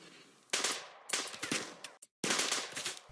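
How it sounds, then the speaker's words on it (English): Raiders in the Rimworld video game fire guns in short rapid bursts, three clustered volleys of crackling gunshots with a brief silent gap between them, loud and close with no talk. "they're shooting at Albert instead of advancing"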